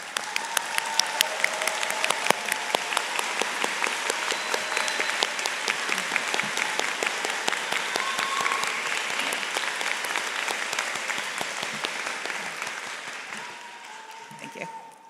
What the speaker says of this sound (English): Graduates, can you please stand and give a round of applause for your loved ones today?